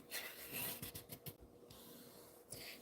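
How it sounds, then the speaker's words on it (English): Folding and burnishing a paper card base by hand, a series of quiet dry rubbing and scraping strokes in irregular bursts, close and soft with no talking. "we'll fold and burnish our card base"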